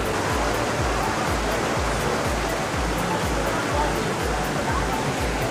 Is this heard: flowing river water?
yes